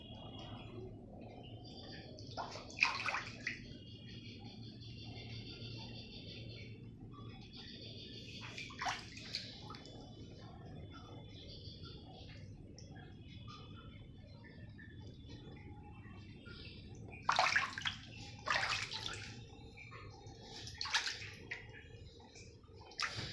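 Water sloshes and splashes faintly as a cat moves around in water, in a few soft bursts spread over a quiet background hum.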